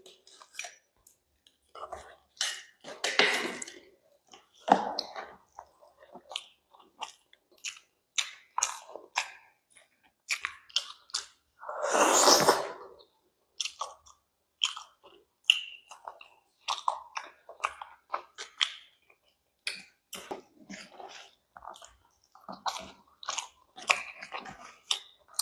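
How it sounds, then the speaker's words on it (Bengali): Chicken curry is chewed, bones and all, in wet, crunchy bites and gnawing at close range, with short gaps between bursts and one longer crunch midway. "হাড়টা শুদ্ধ চিবিয়ে।"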